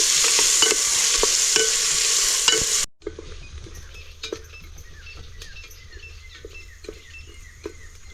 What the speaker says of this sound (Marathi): मीडियम चार कांदे घेतलेत मी आता याला चांगलं परतून घेऊ सोनेरी रंगावर येईपर्यंत चांगलं परतायचं